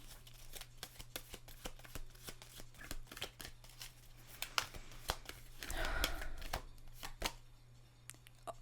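Oracle cards shuffled close up, a quick train of crisp papery flicks and riffles with a brief denser rustle midway, over a faint low hum, no speech.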